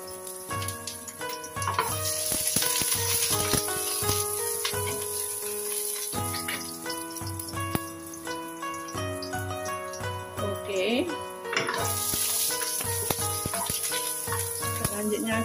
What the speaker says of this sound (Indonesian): Ini minyak sudah panas, kita masukkan bawang putih yang sudah digeprek.